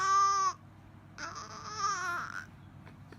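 A young boy cries or strains to cry, pressing the sound out in two high, wavering, nasal bursts separated by a short pause, close and fairly loud.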